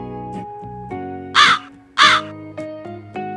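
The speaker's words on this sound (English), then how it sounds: "Crow." A crow caws twice, loud and close, each call a harsh burst over a steady melodic music bed.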